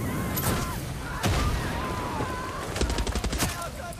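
Gunfire from the video game Far Cry 6, with bursts of automatic weapon fire and heavy booming shots in a chaotic firefight, loud and continuous across the scene, with faint game voices underneath.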